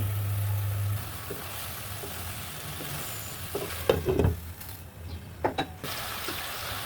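Snakehead fish and cauliflower curry stirred in a covered pan with little oil. A low simmering sizzle gives way to scattered scraping and clinking strokes in the second half, close by and without talk.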